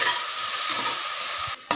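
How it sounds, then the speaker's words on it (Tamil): Tomatoes being stirred while frying in a pan for sambar rice, with a steady close sizzle and the scrape of a spoon, broken briefly near the end. "இதையும் நல்லா இதில் கலந்து விட்டுடலாம்."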